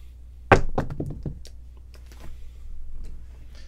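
Dice thrown onto a craps table at a casino in Hawaii land with one sharp, close thunk, then a few quick lighter knocks as they bounce and settle. Faint room murmur continues underneath.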